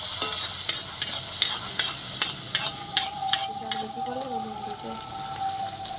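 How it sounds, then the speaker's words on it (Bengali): Fuchka puris deep-frying in hot oil, a loud continuous sizzle with regular sharp clicks of a utensil against the pan and a faint tone running through the middle. "একইভাবে আমি সমস্ত ফুচকাগুলো ভেজে নিয়ে তারপর তোমাদের দেখাচ্ছি"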